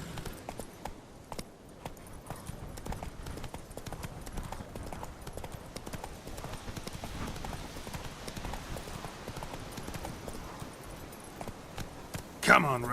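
Roach, the horse in The Witcher 3, moves along with a long, steady run of rhythmic hoof clip-clops at moderate loudness, and a brief louder burst comes near the end.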